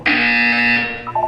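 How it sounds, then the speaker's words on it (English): A single loud electronic buzzer blares for about a second in Portal 2, then cuts off abruptly. "When you hear the buzzer, look down at the floor"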